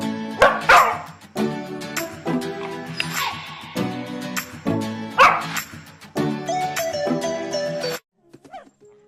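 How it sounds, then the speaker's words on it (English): A dog barks and yips in a rapid, loud, close series of sharp bursts over several seconds, then falls quiet with a few faint sounds at the end. "Bark, bark, bark, bark, bark, bark, bark, bark."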